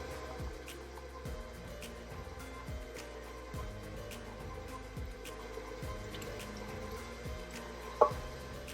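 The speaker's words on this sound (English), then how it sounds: "I'm going to add my 3 tablespoons of oil to my hot water." Oil, three tablespoons, is poured slowly into hot water for homemade calzone pizza dough, a soft liquid trickle with small repeated drips and clinks in a quiet kitchen.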